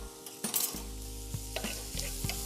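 Diced sausage is stirred in a hot sizzling pan for jambalaya grits, giving a steady close sizzle broken by several scraping stir strokes, with no talk.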